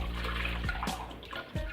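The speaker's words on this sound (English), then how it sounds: "I put like a cup of water at the bottom" Water poured from a cup into a roasting pan holding lamb, a close, continuous splashing trickle lasting under two seconds.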